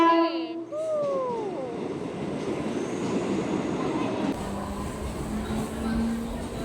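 A Mumbai local train rolls into Wadala station with a steady low rumble and rattling carriages, a faint wheel squeal near the end, while someone speaks over the noise.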